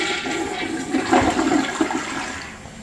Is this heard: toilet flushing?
yes